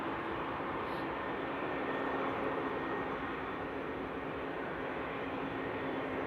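An airplane landing at Frankfurt Airport on a frosty night produces a faint, distant broadband engine roar that holds steady and unbroken throughout, with no voices.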